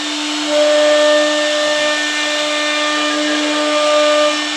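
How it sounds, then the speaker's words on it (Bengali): A CNC machine engraving the lettering Delta 9001 with round cutting gives a loud, steady, high-pitched whine that swells slightly at times, running alone without pause. "আমার কাছে ডেল্টা 9001 খোদাই করে লেখা, রাউন্ড কাটিং, জমিন সহ"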